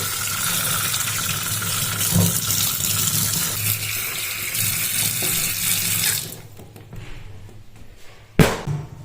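Bhetki fish being washed under a running kitchen tap, a steady broad water gush for about six seconds that then stops, leaving faint handling sounds and a brief clunk near the end.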